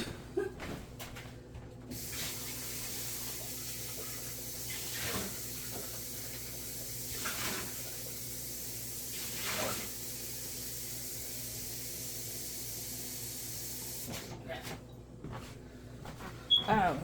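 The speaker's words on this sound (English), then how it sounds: "Put water in there." Water is poured into potting mix for repotting an aloe, a steady hissing pour that runs for many seconds, loud and close, with brief rustles at the start and end.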